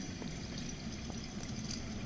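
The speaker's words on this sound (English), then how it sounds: "That's water." Underground water flowing in a Game of Thrones Telltale video game, a steady rushing trickle heard from a distance, continuous and fairly faint with no voices.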